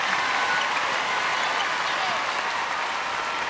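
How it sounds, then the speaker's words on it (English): An arena crowd applauds after a netball World Cup match in Liverpool, England against Trinidad and Tobago: dense, steady clapping and cheering fills the space, loud and continuous throughout with a faint background voice. "they're taking the applause of the crowd inside the arena here in Liverpool"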